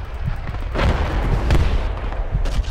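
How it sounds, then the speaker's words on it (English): Mortar shells explode around a squad in the military shooter Project Reality, a string of deep, rumbling booms rolling one after another at close to mid distance over about three seconds. "Mortars are on us."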